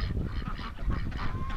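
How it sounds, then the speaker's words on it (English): Female ducks on a snowy winter farm, joined by geese, giving a short burst of loud, overlapping honking calls from a close flock. "All that noise you hear is female ducks trying to get the males to do them."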